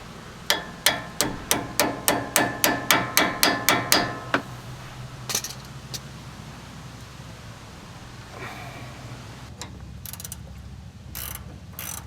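About a dozen evenly spaced metallic hammer blows fold a tab flat on a new upper control arm of an N80 Toyota Hilux, loud and close, followed by scattered clanks and quieter workshop handling.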